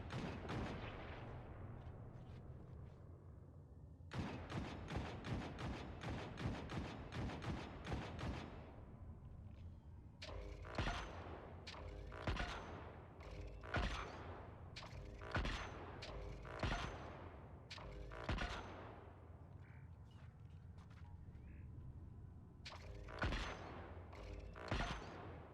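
Gunfire in Destiny 2 rings out as repeated heavy shots in rapid clusters throughout, each blast booming and trailing off, with no talk over it.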